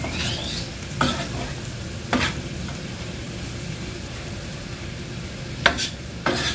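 Vegetables and onion frying in a pan for a Salvadoran escabeche, a continuous close sizzle with a few scraping stirs of a utensil at intervals.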